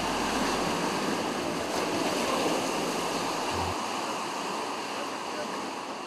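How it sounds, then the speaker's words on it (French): Ocean waves surge and break against the shore at Doun Babadjé facing houses near a breach, a steady loud wash of surf with a continuous roar throughout. "Doun Babadjé, qui fait face à cette brèche, subit les assauts répétés des vagues de l'océan."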